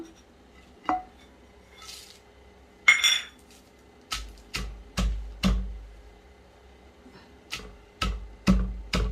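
Peanuts being dropped into a pan, heard as sharp, brief clinks and clatters, scattered at first and then coming in quick pairs, close and fairly loud against a quiet background.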